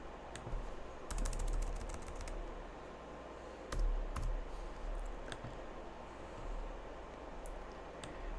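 Someone types on a computer keyboard, producing close, fairly quiet clicking keystrokes in short irregular bursts with pauses, mixed with a few sharper clicks, and no one talking.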